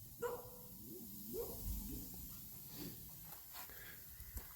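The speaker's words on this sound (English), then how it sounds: "What are you barking at?" A dog barking at a distance, with a few faint, scattered barks and whines over a quiet background of low rumble during work on a truck's air ride suspension.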